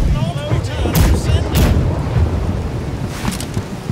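Several deep booming ship cannon blasts in the video game Blackwake go off in quick succession, loud and rumbling, over a continuous low roar of background noise.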